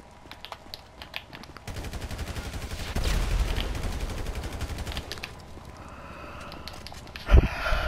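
Rapid gunfire and explosive rocket blasts in Grand Theft Auto V, a dense burst of shots growing louder mid-clip, with one sharp loud bang near the end.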